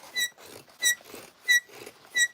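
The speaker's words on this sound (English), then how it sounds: "Sorry about my squeaky scissors." Squeaky scissors, needing oil and sharpening, cut fabric during sewing, giving four evenly spaced high, shrill squeaks, each followed by a soft cutting rasp, close and clear with no talking.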